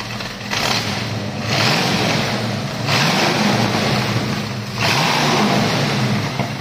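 A 1965 Ford Mustang convertible with a 289ci V8 revs repeatedly in three loud, close bursts, the engine swelling up and dropping back with steady idle rumble between blips.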